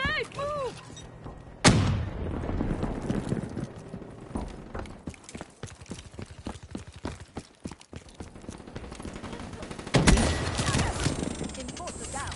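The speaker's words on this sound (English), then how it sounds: "Grenade, move!" Gunfire and grenade blasts from a Black Ops 3 multiplayer match on PS4, with sharp explosive bursts near 1.7 and 10 seconds amid rapid shots and game noise, while voices speak over the action.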